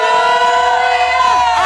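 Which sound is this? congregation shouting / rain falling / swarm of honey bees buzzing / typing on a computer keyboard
congregation shouting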